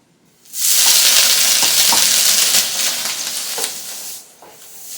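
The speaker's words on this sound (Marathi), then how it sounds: "पाणी शिंपडायचं" Water sprinkled onto a hot iron tava griddle bursts into loud, close hissing sizzle that starts abruptly, holds strong for about two seconds, then eases to a softer crackle with a few pops.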